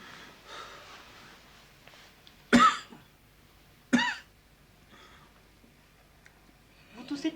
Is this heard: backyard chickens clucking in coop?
no